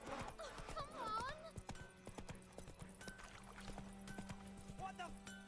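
Roach, the horse in The Witcher 3, clip-clops along with a steady rhythm of hooves on the ground, joined by a brief whinny, under a voice speaking and in-game ambience.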